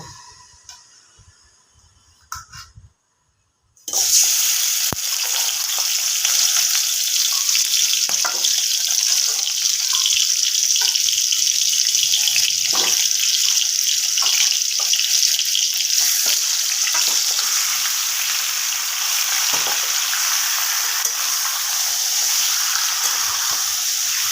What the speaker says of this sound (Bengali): তেলটা গরম হবে আমি এখানে মাংসগুলোকে কিন্তু একটু ভেজে নেব